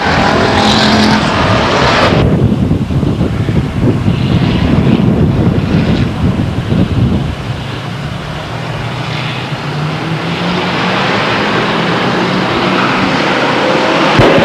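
Race cars roar around the Stockton 99 Speedway oval, a loud continuous engine drone with wind buffeting, shifting as cars pass and fade into the distance.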